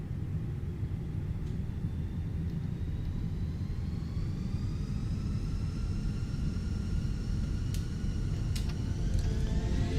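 Steady roar of Fenix A320 jet engines spooling at takeoff thrust in Microsoft Flight Simulator, a continuous loud rumble with rising whining tones and occasional brief clicks.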